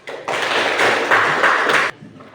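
A classroom group applauds a student group after its presentation, a dense burst of many hands clapping for about a second and a half, close and loud, with no talk over it.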